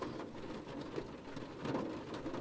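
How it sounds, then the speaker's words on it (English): Steady rain falling in the Seduce Me visual novel game, a soft continuous hiss with faint rumbling underneath, even and unbroken throughout with no talking. "Rain. It's been a long time since we've gotten rain around here"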